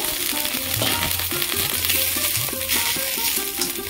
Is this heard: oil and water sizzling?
yes